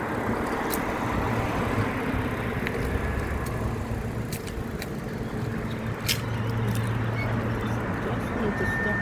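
Traffic passing on a major road in Wollongong, a steady roadside rumble of cars heard from a stopped trike, continuous and moderately loud with faint clicks over it.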